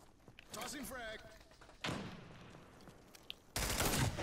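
A frag grenade tossed in a shooter video game, followed by bursts of gunfire and heavy thumping blasts in short loud volleys, with a player talking over the action.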